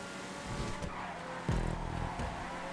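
A car in GTA V on PS4 skids during a stunt race, giving a continuous engine roar with rising tire squeal and a sharper scrape midway, close and loud, with no voices.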